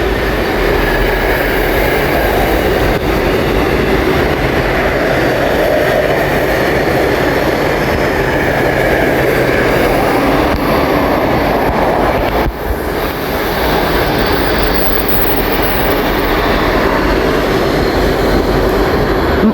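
DRS Class 88 locomotive 88003 hauls a Tesco container train of mostly Maersk boxes through Milton Keynes Central on the West Coast Main Line, a loud, steady roar of wheels and wagons passing close by for the whole stretch.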